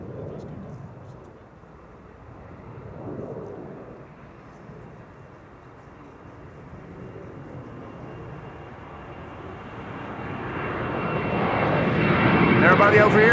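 A Nippon Cargo aircraft takes off from runway 18 Left at Amsterdam Schiphol, its engine roar rising gradually from distant to louder and nearer, with a commentator talking over it.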